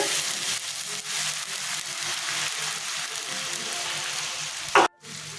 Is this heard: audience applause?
no